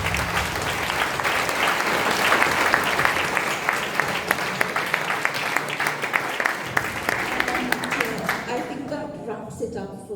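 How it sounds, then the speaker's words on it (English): Concert audience in Mauritius applauding, dense sustained clapping for several seconds with voices talking over it, fading out near the end. "clap for yourself."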